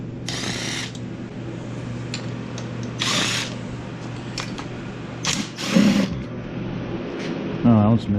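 A power tool whirs in several short bursts while valve-cover bolts are removed from a Ford 351 V8 engine during a teardown, with speech in between.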